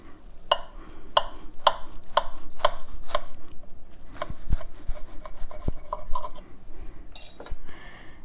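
A knife saws through a wrapped homemade school-lunch sandwich in steady, rhythmic strokes about twice a second, followed by a few irregular scrapes and taps, close and clear with no talking.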